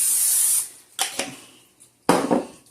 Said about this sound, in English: I'm going to spray my pan just in case.